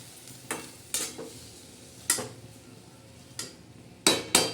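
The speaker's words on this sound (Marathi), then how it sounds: "हे आपण गवारीच्या शेंगा टाकलेल्या आहेत असं चांगल्या हलवून घ्यायच्या" Spoon stirring cluster beans with dried shrimp in a pan, a handful of distinct scraping strokes spaced irregularly over a faint sizzle, close and alone.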